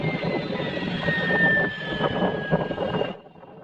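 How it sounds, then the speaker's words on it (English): B-52 bomber flying overhead with a fighter jet escort above a sheep ranch in Australia, a broad rumbling jet roar with a thin whining tone that swells and then fades away. "This person looked up and saw a B-52 being escorted by a fighter jet."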